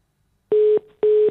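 Telephone dialing tone on a call that fails to connect: two identical steady beeps, each about a quarter second long, separated by a short gap, loud and clear with no talk over them.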